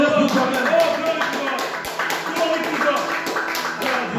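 A church congregation claps steadily in rhythm to acclaim the Lord, a continuous patter of many hands under a preacher's voice and crowd noise.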